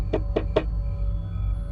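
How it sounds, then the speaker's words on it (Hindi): Three quick, sharp knocks on a door, close and distinct in an even rhythm, over a steady low background hum in a dramatized mystery story. "तभी दरवाजे पर दस्तक हुई"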